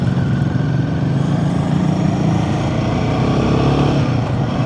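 A Royal Enfield Himalayan 450 motorcycle trundles along dead slow in second gear, its engine a loud, steady low thrum with rough wind buffeting and no change in pace.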